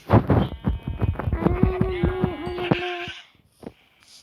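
Sheep bleating in Minecraft, a run of repeated wavering bleats that sounds close and clear, preceded by a few short game clicks, with no talk over it.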